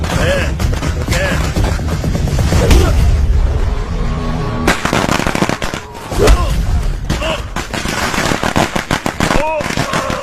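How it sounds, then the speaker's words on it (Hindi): Firecrackers bursting in a film scene, a dense run of loud sharp cracks and pops, pausing briefly near the middle before more bangs, with music and voices mixed underneath. "अरे एरिया में पटाखा कौन फोड़ रहे रे?"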